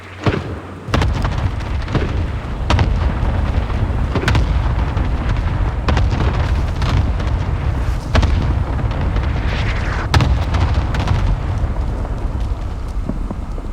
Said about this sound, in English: Requesting fire mission. This is Loader 2-0. Good copy. Cluster strike away.